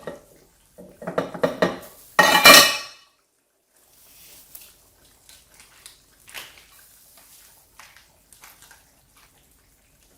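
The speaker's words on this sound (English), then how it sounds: "Roughly cut a few pieces here." A utensil strikes a pot of soon tofu stew in a quick run of clinks and scrapes, ending in a louder metallic clatter, and then a few faint soft taps follow.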